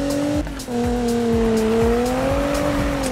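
A game car's engine revs and holds a high, wavering pitch while drifting in Need for Speed, with repeated brief tire-squeal bursts and gear shifts; loud and close, no talking.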